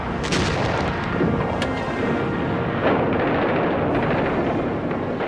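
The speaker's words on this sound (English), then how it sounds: "a short bombardment began the final destruction of France" Dense, continuous rumble of artillery bombardment from archival war footage, with scattered sharper booms and blasts rising out of a steady wash of noise and no voices.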